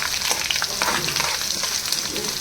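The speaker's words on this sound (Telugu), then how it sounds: "వీటిని వేస్తున్నాను. ఇవన్నీ చక్కగా వేగిపోయిన తర్వాత" Coarsely crushed garlic fries in hot oil for a village-style cucumber chutney, producing a dense, loud, continuous sizzle with fine crackling and occasional brighter spits, close up and with no voices.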